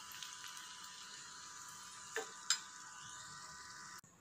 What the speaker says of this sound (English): you can hear the crispy sound of the leaves